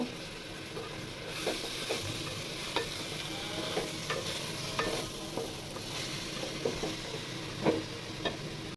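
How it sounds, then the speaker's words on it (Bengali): Polao rice grains rustle and scrape in a hot pan under a steady sizzle, with soft periodic stirring taps, close by and continuous. "পোলার চাল দিয়ে ভালোভাবে ভেজে নিতে হবে সুন্দরভাবে চালটাকে ভেজে নিব"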